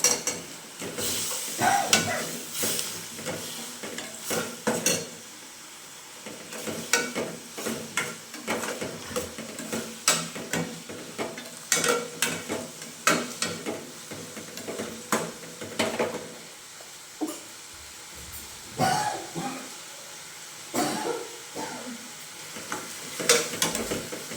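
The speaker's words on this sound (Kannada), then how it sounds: "ಸ್ವಲ್ಪ ಫ್ರೈ ಆಗಲಿ." Boiled, smashed potato fries in a pan on a home stove for a dosa recipe, giving a soft steady sizzle broken by repeated scraping and stirring strokes from a utensil, close and moderately quiet.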